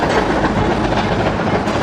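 A steam locomotive passes on rails, a loud, close, continuous rumble and rattle of the train running at speed, with no voices.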